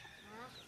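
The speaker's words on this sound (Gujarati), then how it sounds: "અહીંયા કુકડા ને બધું છે." Chickens and roosters around a farm garden, a soft clucking fowl sound sitting faintly in the background under low ambient noise.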